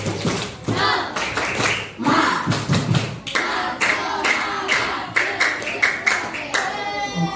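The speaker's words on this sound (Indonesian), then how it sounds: "Semangat, tepuk semangat." A classroom of students performs a rhythmic spirit clap (tepuk semangat), with sharp claps in patterned bursts and pauses, accompanied by voices chanting along.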